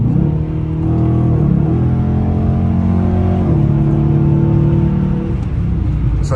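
A 2023 Dodge Challenger R/T Shaker with a 5.7 V8 revs and accelerates, its loud, deep engine rumble rising in steps through gear changes, heard close and continuous from inside the car.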